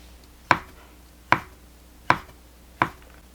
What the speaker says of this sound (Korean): 올리브 9개를 썰어 주세요.